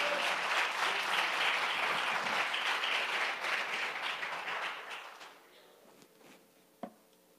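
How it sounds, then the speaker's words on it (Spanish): Congregational applause at a church service, a dense crowd of hands clapping steadily for about five seconds before fading out, leaving a quiet room with one sharp knock near the end. "un aplauso al Señor"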